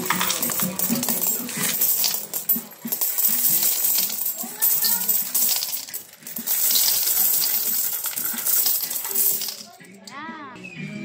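Coins poured out of a pisonet coin box, a dense, continuous metallic jingle and clatter of many coins close up, with a few short clinks near the end.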